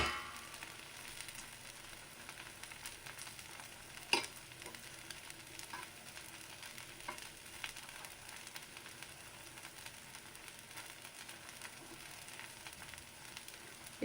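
Masala dosa roasting on one side in a pan over a low flame, with a steady faint sizzle and soft crackle and an occasional light tap, no talking.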